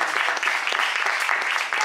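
Dense, loud applause from an audience at a book presentation in Foggia, Italy, with brisk, continuous clapping filling the whole short stretch.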